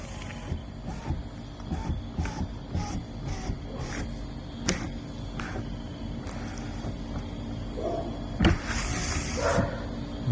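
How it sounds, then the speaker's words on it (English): A Honda Pilot's power window motor whirs in short repeated runs up and down, fairly faint with small clicks between strokes and a slightly louder stretch near the end. "you're going to slowly roll the windows up and down 5 times to make sure that everything's nice and snug"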